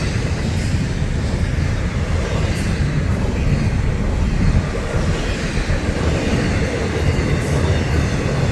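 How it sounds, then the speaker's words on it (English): Long freight train hauled by three locomotives rolling past, a steady loud rumble and wheel roar that holds evenly throughout with no talk. "Yeah, 3 locomotives. This is a big train."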